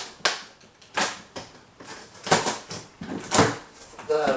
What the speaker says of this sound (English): I'm just gonna use this knife to try and cut through it